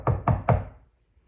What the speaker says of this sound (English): The wolf knocks on the door of the straw house